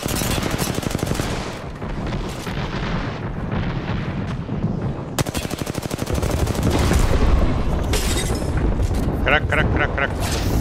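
R-301 rifle fire in Apex Legends, rapid bursts of loud gunshots rattling through the clip with a hard cluster of shots midway, sharp and close over battle noise.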